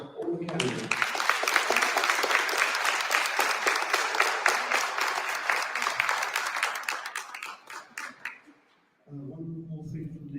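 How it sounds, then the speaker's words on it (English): Sustained audience applause at a live candidate forum, dense steady clapping filling most of the stretch before fading out into a brief pause and then a voice speaking. "Please, round of applause for all the candidates."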